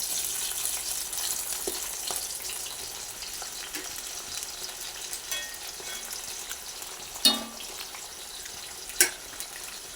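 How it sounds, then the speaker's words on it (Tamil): Strips of raw jackfruit fry in hot oil, giving a steady, close sizzle that carries on throughout, broken by a couple of sharp clinks or pops near the end. "எண்ணெய் நல்லா கொதிச்சிட்ருக்கு நம்ம வந்து இந்த பெலாக்காவை வந்து இதில் சேர்த்துக்கலாம்"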